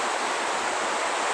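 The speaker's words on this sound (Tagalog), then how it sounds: "Nagkuhan ko sa tulo sa ulan." Rain dripping and pattering during a night after a magnitude 6.7 earthquake, a steady dense broadband hiss of falling water, close and continuous throughout without pauses.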